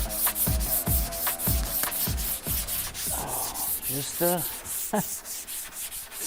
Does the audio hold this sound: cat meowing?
no